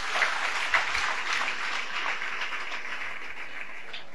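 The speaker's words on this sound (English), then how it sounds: "Can you just clap for Jesus?" Steady applause from a church congregation, many hands clapping together at moderate volume, continuing without a break for several seconds.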